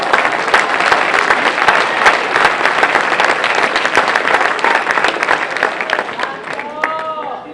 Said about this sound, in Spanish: Dale la ofrenda de aplauso a Cristo.